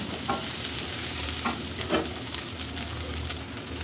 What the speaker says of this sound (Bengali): এবার পেঁয়াজ আর লবণটা একটু ভেজে নেব কিছুক্ষণ।